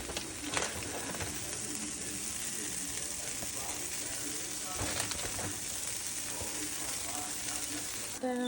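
Chicken quesadilla with jalapenos and cheese frying in a cast iron pan, a constant soft sizzle and hiss, fairly quiet, with a few small clatters along the way.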